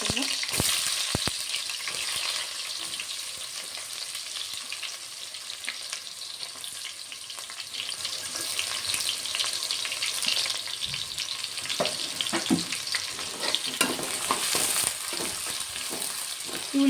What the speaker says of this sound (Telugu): ఇప్పుడైతే నూనె వేడెక్కింది ఉల్లిగడ్డలు వేసుకుంటాం